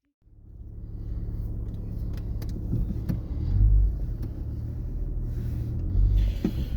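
A burnout project car's engine starts up and rumbles steadily as the vehicle drives off, with low-end swells and occasional small clicks and rattles inside the cabin.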